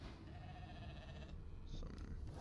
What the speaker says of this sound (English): We got a sheep